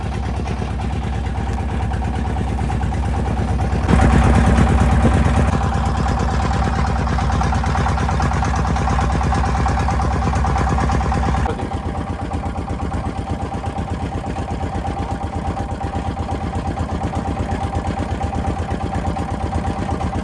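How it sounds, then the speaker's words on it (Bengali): A boat engine drones steadily on a river crossing, loud and close, with a louder stretch early on before easing back to a constant hum. "গাইস এখন আমরা নৌকা উঠে গেছি।"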